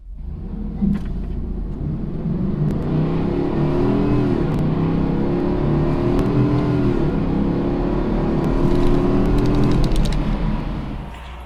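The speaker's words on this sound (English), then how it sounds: "what I did do was a 0 to 60 test stock." A stock pickup truck accelerates hard from 0 to 60, its engine revving up through rising sweeps with brief drops at gear changes, a loud, close, continuous rumble and roar heard from inside the cab.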